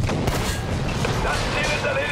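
Tank gunfire in Battlefield V, heavy booming blasts and rumbling battle noise filling the scene continuously, with voices shouting over it.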